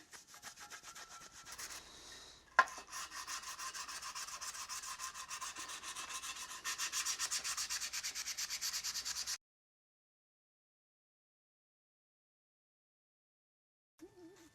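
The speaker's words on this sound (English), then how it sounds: "Putting a little sandpaper on my Bondo spreader just to get in these tight areas." Brisk back-and-forth scraping of sandpaper wrapped on a Bondo spreader, rubbed by hand over Porsche 911 turn signal parts, close and rhythmic, stopping abruptly and leaving silence.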